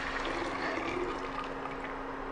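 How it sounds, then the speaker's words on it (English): Herbal tea pours from a pot into a jar: a close, continuous watery splashing stream at moderate level, running steadily without pause and with no voices. "pour the tea into the jar."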